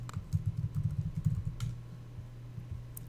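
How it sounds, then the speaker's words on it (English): Quick clatter of keystrokes on a computer keyboard, a short burst of typing that trails off into near silence, close and soft. "you can type nano"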